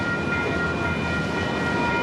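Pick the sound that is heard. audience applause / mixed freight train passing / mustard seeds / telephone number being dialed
mixed freight train passing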